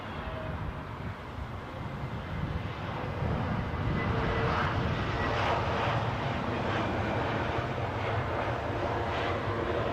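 A Boeing 787 Dreamliner airliner at London Heathrow airport gives a broad, steady jet roar that swells over the first few seconds and then holds loud and even, with no talk.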